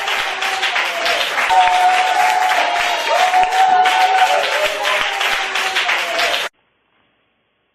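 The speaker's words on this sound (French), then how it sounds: "on va applaudir" A crowd at a Christmas gathering claps loudly and steadily, with a few voices rising above the applause, before the sound cuts off abruptly to silence in the last second.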